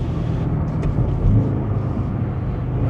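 A 2025 BMW M5 Touring drives through a tunnel, its heavily filtered exhaust giving a flat, steady low rumble that stays loud and even throughout, with no talking.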